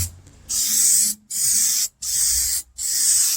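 Rust-Oleum rattle can spray paint hissing onto the dash of a 1962 Mercury Comet, four bursts of about half a second each separated by short pauses, close and steady.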